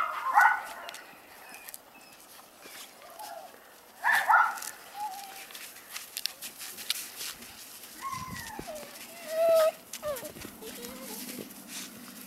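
Pomsky puppies yip and bark in short bursts while playing outdoors in snow, two louder barks standing out among scattered smaller yips and whimpers, with a person calling to them between.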